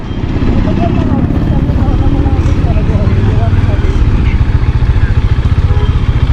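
A motorcycle idles close by during a mountain bike trip in Nepal, parked beside a roadside shop, its low engine rumble steady and continuous throughout while voices murmur over it.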